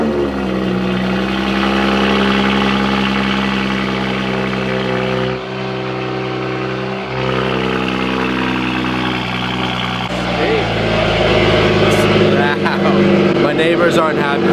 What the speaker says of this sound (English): World's loudest cold start.